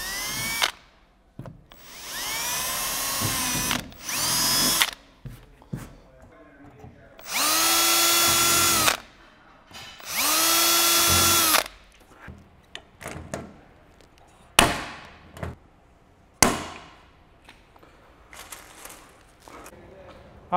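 A power drill drilling a hole in a car hood whirs in several bursts of a few seconds each, spinning up and down, with clattering handling noises and short pauses between.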